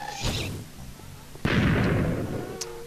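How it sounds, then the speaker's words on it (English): Ghasts shooting fireballs in the video game Minecraft, heard as two booming blasts with explosive bursts, one near the start and one midway, over a constant background game noise. "While ghasts are shooting at me."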